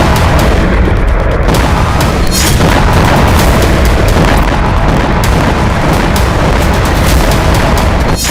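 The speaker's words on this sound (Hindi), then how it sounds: "Su-34 फाइटर बॉम्बर के जरिए फैब 3000 के ताबड़तोड़ प्रहार से पूर्वी कीव का कोना कोना थर्रा उठा" FAB-3000 glide bombs dropped by Su-34 fighter-bombers explode over Kyiv in a very loud, continuous wall of booming rumble with repeated sharp blasts throughout.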